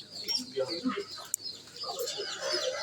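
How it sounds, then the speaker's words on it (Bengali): Chickens on a rainy day give soft, irregular clucks and murmurs close by, broken by one sharp click midway, over a faint steady background hiss. "আমার মুরগি দেখো"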